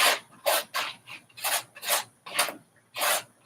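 Paint is scraped onto an art piece in about seven separate rasping strokes, close and fairly quiet, with short pauses between them.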